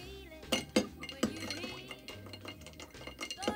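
A drink of Jackson Morgan, Crown Royal and Fireball being mixed, with close clinks and taps of a utensil against glass over soft stirring and handling noise.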